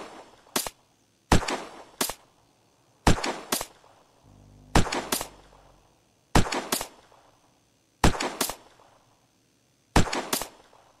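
Gunshots in the survival game Unturned ring out as eight sharp, loud single reports spaced about a second apart, each with a brief decaying tail and quiet between.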